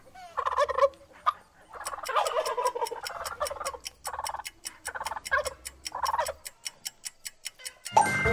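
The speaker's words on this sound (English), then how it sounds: "It's a turkey." A turkey gobbles in rapid warbling bursts, close and clear, repeated several times, with a steady ticking like a clock running beneath and continuing alone after the calls fade.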